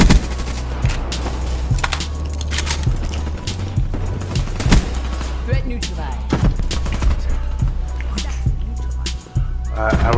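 Rapid, dense gunfire in a video game shooter, loud bursts and shots stacking over one another for the whole stretch, with a brief dip near the end.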